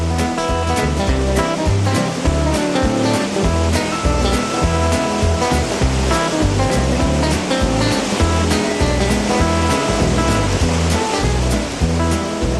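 The Athabasca River rushes below the falls during a rafting run, a loud, dense, continuous roar of whitewater with no voices.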